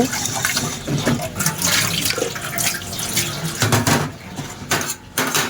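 Dishes being washed in a kitchen sink under a running tap: a steady, close splash of flowing water with scattered clinks and shifts as items are rinsed, no talking.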